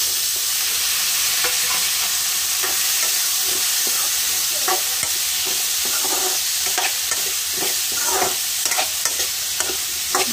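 Potatoes stirred in a frying pan in a Nepali village kitchen: a loud, steady sizzle with repeated scraping spatula strokes and clicks against the pan, no talking.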